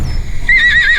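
A single loud, close horse neigh with a wavering high whinny that rises out of low background rumble and carries on to the end.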